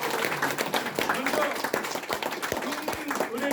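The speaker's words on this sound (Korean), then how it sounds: "여러분의 힘찬 박수로 시작하겠습니다." An audience claps together at the opening of a launch ceremony for a citizens' special counsel on real-estate corruption, a dense steady patter of many hands that lasts throughout, with a few louder individual claps standing out.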